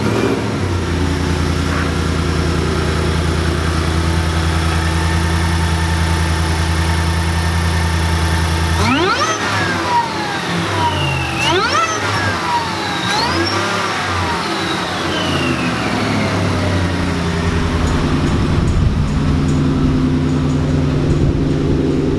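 A car engine idles with a low steady rumble, then is started up and revved hard several times, each rev rising and falling in pitch before it settles back to a loud idle.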